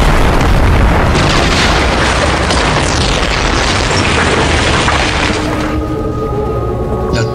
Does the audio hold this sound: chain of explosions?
yes